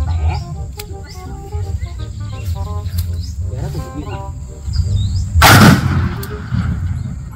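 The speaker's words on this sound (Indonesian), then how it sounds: "meriam pengusir burung" A single loud bird-scaring cannon boom cracks out over a background of chirping insects and birds, with quieter rhythmic sounds before and after.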